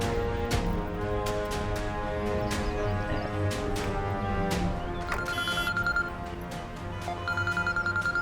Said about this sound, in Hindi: अरे किसका फोन?